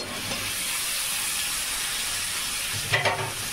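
Pieces of snake gourd hit a frying pan already holding prawns, with a steady close sizzle and hiss that swells into a brief louder burst near the end, and no talking.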